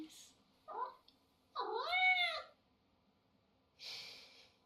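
A cat meows in Life is Strange: Double Exposure, a short chirp followed by a long drawn-out meow, with brief breathy snorts and quiet gaps around it.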